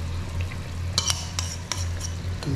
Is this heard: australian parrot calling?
no